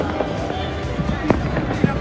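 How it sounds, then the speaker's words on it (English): Firecrackers bursting in the evening sky during the Uttarayan festival, scattered sharp pops and cracks, some near and some distant, over a dense background of crowd noise and voices. "the firecrackers also starts blowing up."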